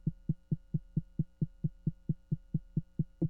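Image-Line Poizone synthesizer producing a low, throbbing tone repeated in even pulses, about four per second, loud and alone with no voices.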